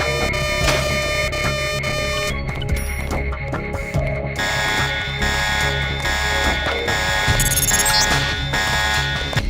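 An electronic alarm blares continuously in Deus Ex: Nameless Mod, a loud shrill ringing tone with layered beeping and buzzing that shifts character partway through, steady and unbroken with no voices.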